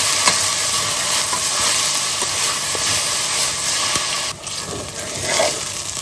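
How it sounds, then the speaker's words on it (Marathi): Chopped onions frying with a pinch of salt in a pan give off a loud, continuous sizzle and hiss from close by, broken up by occasional scrapes of stirring and a brief dip near the end. No one speaks. "कांद्याक आमकां हे सारको हो गोल्डन कलर येवंक जाय, तितले आमी हे कांदे भाजया"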